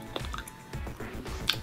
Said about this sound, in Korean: 씹을 때 굉장히 꼬들꼬들해서 씹는 재미가 좀 있습니다